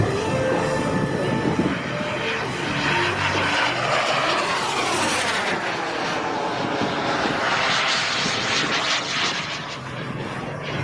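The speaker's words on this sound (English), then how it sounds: "Check that F-18 out, man." A radio-controlled F-18 model jet flies over Spring Summer Bay, California, its turbine roaring loud and continuous with a sweeping pitch shift as it passes close by, no talk over it.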